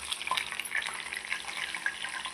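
Store-bought papad frying in hot oil, a bright, fizzing sizzle with scattered pops and crackles, fairly quiet and continuous, with no voices.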